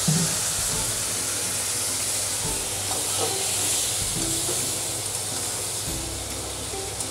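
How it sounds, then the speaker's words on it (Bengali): Water splashed into a pan of frying sheem beans, spices and tomato for a fish curry, giving a broad steady hiss close by that slowly eases, with a few faint utensil knocks. "একটু জল দিয়ে ভাজা করি আবার"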